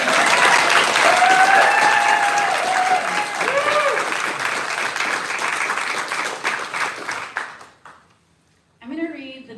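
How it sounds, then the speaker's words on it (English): Sustained applause for the artists at an art, ecology and poetry reading, loud and dense clapping from a crowd that thins out and stops near the end, followed by a brief voice. "just one more round of applause to the artists"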